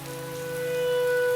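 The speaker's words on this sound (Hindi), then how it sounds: "बारिश भी थमने का नाम नहीं ले रही।" Steady rain keeps falling through a rainy night, a constant soft hiss beneath a faint sustained tonal hum, with no one speaking.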